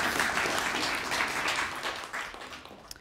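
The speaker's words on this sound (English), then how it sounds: "Please give her a round of applause." An audience at a high school poetry recitation contest breaks into sustained applause, many hands clapping in a dense wash that fades slightly toward the end, heard from within the hall.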